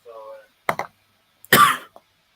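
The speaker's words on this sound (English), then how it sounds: "Apologies for my coughing." A person coughs twice in short harsh bursts, the second longer and louder, between brief stretches of speech at home during a live football watchalong.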